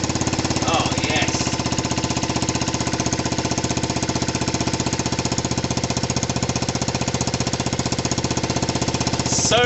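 Dirt bike engine running after a cold start in the snow, a loud rapid rattling putter at a steady idle, close by, with a voice briefly heard over it.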